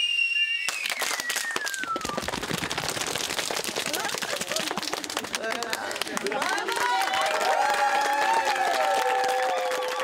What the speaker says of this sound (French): Voilà, un petit feu d'artifice.